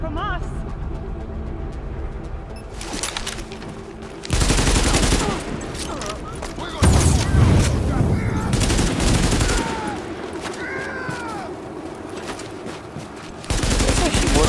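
Bursts of assault rifle fire and heavier volleys ring out in The Division, loud and repeated in clusters with short gaps between them, while someone talks over the shooting.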